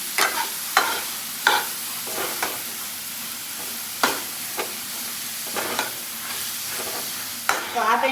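Shredded cabbage sautéing in a pan, a soft continuous sizzle punctuated by repeated sharp scrapes and knocks of a spoon stirring, close by.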